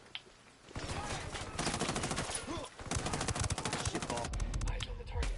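Bursts of automatic rifle fire crackle in a tactical shooter, Ghost Recon Wildlands, long rapid volleys separated by short gaps, loud and close, with a voice speaking briefly between the shots.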